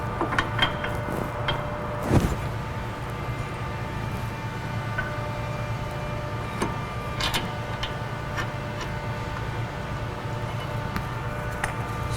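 A ratchet tightening the brake caliper bracket bolt on the front knuckle of a 2007 GMC Sierra, quiet rapid metallic clicking in bursts with a few sharper clanks, in a garage without talk.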